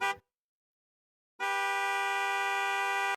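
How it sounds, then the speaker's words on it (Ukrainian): A car horn sounds in two blasts, a short toot followed by a pause and then a long, loud, steady honk lasting nearly two seconds, close and alone with no talk over it. "А як сигналить машина, ви знаєте?"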